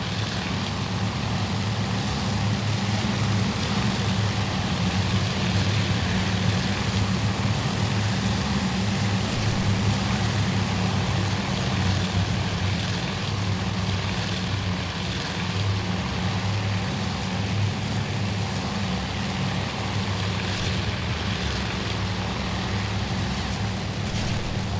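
Dense, steady drone of torpedo bomber propeller engines in the Task Force Admiral naval air battle at Midway, loud and continuous with a low rumbling hum throughout and no talking.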